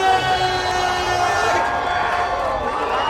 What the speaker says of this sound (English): Oh, the crowd is going crazy for this one.